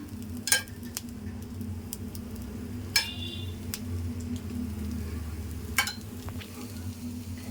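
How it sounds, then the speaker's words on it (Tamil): Pumpkin dosa sizzles in oil on a pan with a steady low frying hiss, and three sharp utensil taps break through at intervals, all at a soft, even level with no voices. "கொஞ்சோண்டு அப்படியே எண்ணெய் எண்ணெய் ஊற்றிடுங்க ஆயில் ஊற்றிடுங்க"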